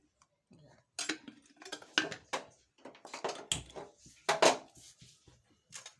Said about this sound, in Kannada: ಇದಕ್ಕೆ ಒಂದು ಎರಡು ಸ್ಪೂನ್ ಎಣ್ಣೆ ಹಾಕಿ ಹುರಿತೀನಿ ನೋಡಿರಿ